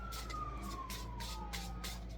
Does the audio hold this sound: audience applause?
no